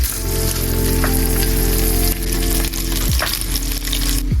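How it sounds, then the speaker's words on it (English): Thick slices of Spam fry loudly in hot oil in a pan, a dense, steady crackling sizzle close up with a faint steady hum underneath. "Add oil in the pan. Get the Spam in the pan."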